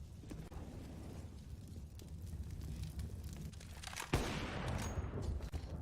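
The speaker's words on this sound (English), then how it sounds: "Nice wallbang attempt from Elian" Counter-Strike gunfire on the Mirage map during a professional match, with a dense rumbling fusillade of shots through a wall and one sharp crack standing out midway.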